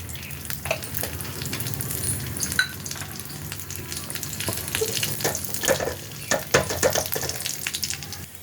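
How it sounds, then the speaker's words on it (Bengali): Dried red chili and nigella seeds frying in hot oil, a continuous crackling sizzle with sharp pops and spatters, close and fairly loud throughout. "এতে একটা শুকনো লঙ্কা দেব আর কালো জিরে দেবো ফোড়নে।"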